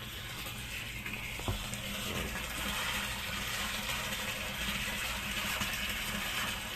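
Water pours steadily from the drain return pipe of a hydroponic NFT system, a continuous close rushing splash with a pump running, no voices.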